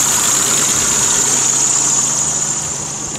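A Mitsubishi Verada Magna engine idles steadily at close range, a constant smooth drone with a faint rattly edge and a high whine running throughout, no voices.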